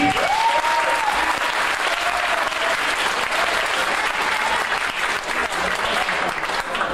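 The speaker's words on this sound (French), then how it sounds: "Alors on les applaudit." Sustained, loud applause from a crowd at a 1998 wrestling gala fills the whole stretch, dense and even, with a faint whistle rising briefly at the start.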